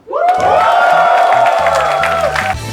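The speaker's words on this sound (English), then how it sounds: "Guys, with a huge round of applause, please get ready for round 2" Studio audience on a comedy quiz show cheering and applauding in a loud, sustained burst with whoops, sounding close and full for nearly three seconds.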